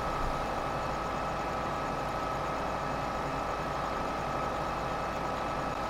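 A Zetor tractor engine idles in Farming Simulator 2015, a steady, unchanging mechanical drone that runs alone for the whole stretch without any revving.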